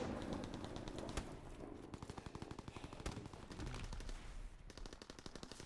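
Rapid automatic gunfire and shotgun blasts fire in Call of Duty: WWII gameplay, incendiary rounds included. Bursts stay dense and loud across the whole stretch, with a steady fast rattle of shots and some heavier single reports.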